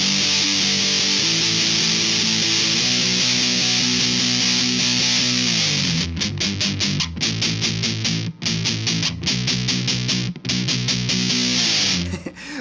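A heavily distorted electric guitar through a DOD Grunge FX69B solid-state distortion pedal plays sustained chords, then switches to rapid chugging palm-muted strums with brief gaps, loud and close.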